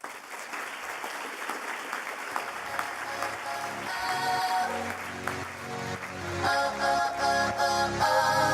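An audience at an awards gala applauds as the honorees enter, with sustained clapping that grows fuller over several seconds while music with piano and singing plays underneath.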